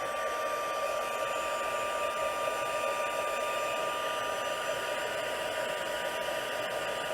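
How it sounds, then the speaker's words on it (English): A craft heat tool melting embossing powder blows with a steady, even whooshing hum like a small hair dryer, holding constant for about seven seconds at moderate volume with no voices. "you're gonna listen to my heat tool just for a little bit"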